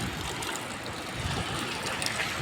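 Rainwater rushing and flowing close beside a wall during heavy rain in Amreli district, a continuous broadband wash of churning water, steady and moderately loud with no voices.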